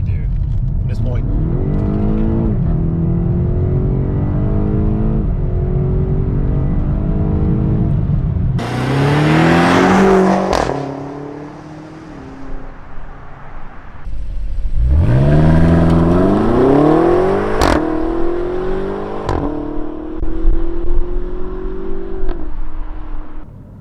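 A BMW car driven in sport mode, its engine revving hard in loud, close bursts that climb in pitch, drop back, then climb again over about twenty seconds.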